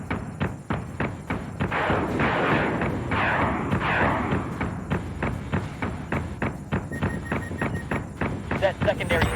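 Missiles and cannons fire from a Colonial fleet in Battlestar Galactica Deadlock as a rapid, steady run of heavy thumping shots. Someone talks over the barrage.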